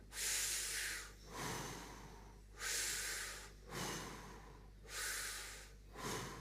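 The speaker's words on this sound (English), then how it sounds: "3 sharp breaths, go" Three sharp, forceful breaths taken through the nose during a breathing exercise, each a loud hissing rush of air followed by a pause, close to the listener over a low steady hum.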